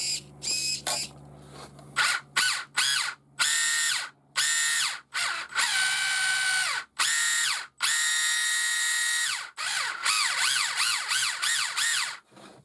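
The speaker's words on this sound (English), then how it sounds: "the meshing system is terrible, because that sounds awful. That's why these are so noisy." A Traxxas Mini Maxx RC truck motor with noisy gear mesh whines loudly in repeated bursts, revving up and cutting off many times, with a rising and falling gear squeal throughout and no talk.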